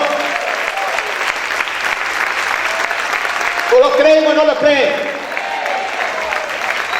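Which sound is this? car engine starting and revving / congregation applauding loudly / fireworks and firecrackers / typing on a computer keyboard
congregation applauding loudly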